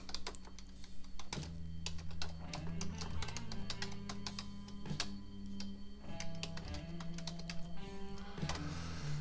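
Fingers type steadily on a computer keyboard, a dense run of quick, close clicks and taps with uneven rhythm, fairly quiet and alone.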